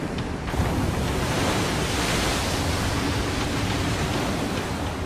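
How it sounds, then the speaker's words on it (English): Tsunami waves crash over a seawall as a dense, roaring wash of surf noise, steady and loud throughout with no talk. "the first of 7 giant waves crashes over the seawall"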